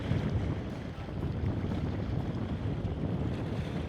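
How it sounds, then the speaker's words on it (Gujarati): A boat pulls away from a marina on Lake Superior, its broad rumble blending with strong wind buffeting the microphone and lapping water, steady and close throughout. "બોટ નીકળી રહી છે"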